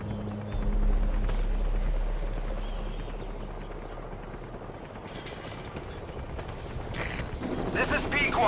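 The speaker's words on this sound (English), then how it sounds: "Support helicopter has arrived." Support helicopter arriving in Metal Gear Solid V: The Phantom Pain, a steady low rotor drone rising and fading over several seconds, with game chatter and effects layered above.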